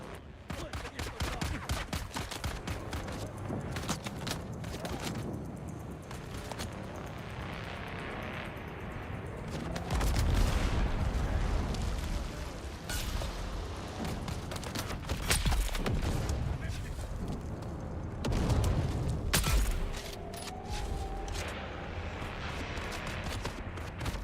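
Sniper rifle and other gunfire in the sci-fi survival game Dune: Awakening, sharp shots and bursts rising over a busy battle mix with aircraft engine drone, with peaks around three points.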